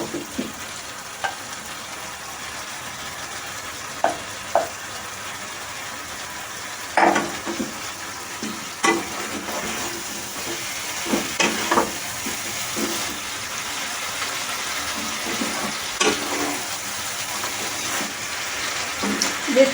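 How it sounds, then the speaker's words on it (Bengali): Bhetki fish bones sizzle in spice paste in a pan, a steady hiss of frying broken by scattered scraping stirs and soft clacks of the spoon. "এবার আমি এই কাঁটাগুলো দিয়ে আরেকবার ভালোভাবে কষিয়ে নেব।"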